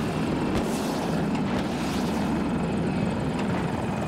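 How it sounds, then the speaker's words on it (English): An enemy helicopter in a multiplayer combat video game, its steady rotor and engine drone filling the whole stretch at an even, loud level with no talk over it. "Oh, that's a chopper."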